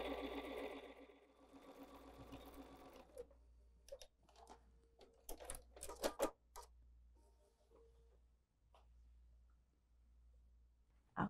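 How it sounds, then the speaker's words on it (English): Sewing machine stitching fabric for a braided twist table runner, a run of quick mechanical stitching near the start, then short intermittent bursts of stitching and ticks, fairly quiet and close. "Sewing an eighth of an inch."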